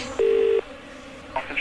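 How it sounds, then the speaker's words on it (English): Telephone dialling to call security, a single steady tone of about half a second followed by a couple of brief keypad beeps, close and clear with nobody talking. "Now I'm going to phone security."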